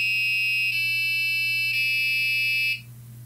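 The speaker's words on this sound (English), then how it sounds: "So to test this out, I'm going to use 3 specific frequencies for 3 different notes just to make a very simple song." An Arduino-driven buzzer plays a simple song of three steady electronic tones in sequence, each held about a second, bright and piercing, ending with a brief fade into quiet background hum.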